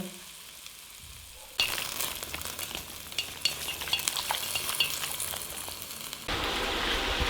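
Pasta cooking risotto-style in a pan with hot water added ladle by ladle, stirred as it simmers with garlic, oil and sage; a steady close sizzle and bubbling starts abruptly, with stirring scrapes, then grows louder near the end.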